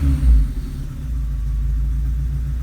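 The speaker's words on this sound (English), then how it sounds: "Just going to give the throttle a quick blip." A Subaru EA82T turbo engine, running Megasquirt MS3x engine management, gets a quick throttle blip: a loud low rumble surges in a short burst, then drops back to a steady, deep idle, heard close up.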